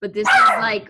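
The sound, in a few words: dog barking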